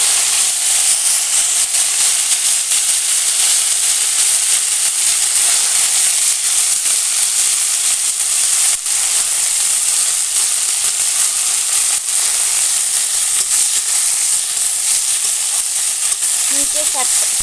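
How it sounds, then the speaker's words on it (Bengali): Hinche greens sautéing in hot mustard oil with panch phoron for a chorchori with small fish, giving a steady, close sizzling hiss that runs unbroken throughout, with no one speaking. "হিংচে শাকটা দিয়ে একটু ভালোভাবে কষিয়ে নেব।"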